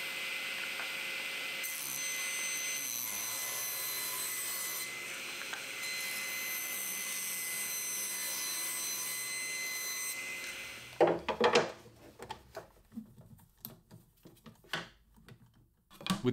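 A power saw cuts spacers from scrap plywood in a workshop, whining steadily for about ten seconds. Then come a series of sharp knocks and clatters of handling the cut wood pieces.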